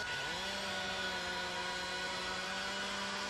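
Chainsaw engine revving up from a low idle to a steady high whine within a fraction of a second and then holding constant, loud and close, with no voices.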